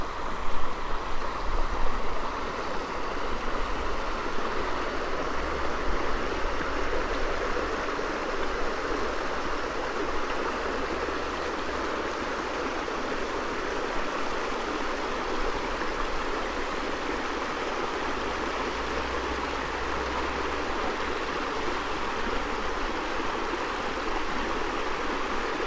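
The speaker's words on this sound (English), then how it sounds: "hope the microphone's picking up the water" Water pours steadily over falls off a hiking trail near Hope Lake, a constant broadband rush of stream and waterfall flow that stays even and close throughout, with no voices.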